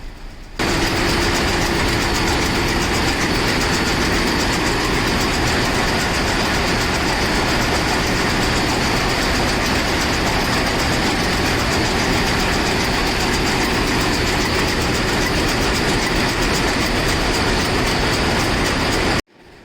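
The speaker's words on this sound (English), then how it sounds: "listen and enjoy the sound of pure, slow speed, 2-stroke, inline, 6-cylinder diesel engine" A slow-speed two-stroke inline six-cylinder marine diesel engine in a merchant ship engine room thunders steadily and loudly up close, a dense continuous mechanical roar with a deep rhythmic throb and no voices.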